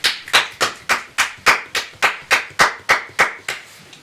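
Hands clap in a slow, even rhythm, about eleven sharp, close claps spaced roughly a third of a second apart, loud and alone with no talk.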